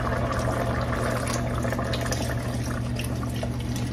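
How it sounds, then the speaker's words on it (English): Milk pours steadily into a pot of broccoli cheddar soup, a continuous close liquid rush with no talk. "we can go ahead on and put our milk in"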